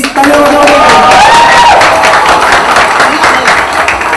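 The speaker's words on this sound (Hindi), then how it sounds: "तालियां बजाओ" Loud, energetic applause and cheering from an audience welcoming Ajay Devgan and Tabu at a promotional event for the 2015 film Drishyam, with a host's voice briefly rising over the dense clapping at the start.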